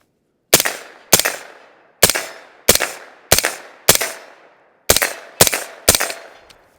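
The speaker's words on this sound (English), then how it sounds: "These are actually my very first shots with this gun." Nine sharp, evenly spaced gunshots come from a pistol caliber carbine fitted with an Inert Haze 1 suppressor, each a crisp crack with a short decaying tail, fired in a close, loud, steady sequence.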